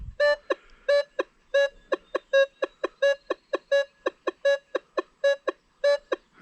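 Repeated metal detector beep tones from an Equinox 800 or Deus 2 sweeping over a clad dime among iron, about two dozen short pitched bursts in a quick, slightly irregular rhythm, close and clear with no talking.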